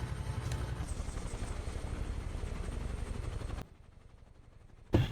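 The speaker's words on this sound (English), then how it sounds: "This is the classic Huey, everybody. The UH-1H US Army helicopter." UH-1H Huey US Army helicopter in Microsoft Flight Simulator, a steady loud rotor thump and turbine whine for about three and a half seconds, then dropping to a low idle hum before a brief burst at the end.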